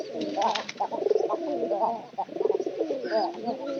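Pigeons coo in soft, rolling, repeated phrases, fairly close, with a voice talking over them throughout.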